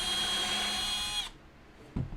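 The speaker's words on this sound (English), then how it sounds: "Just gonna drill one hole to start with" A power drill with a countersink bit bores a hole in wood for a dog crate, whining steadily and loudly before cutting off abruptly, followed by a short knock.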